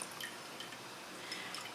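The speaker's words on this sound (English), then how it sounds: "The first thing you need to do is drain the actual water." Water drains from soaked sprouting lentils through a holed mesh, heard as faint, scattered drips and light trickling over a soft background hiss.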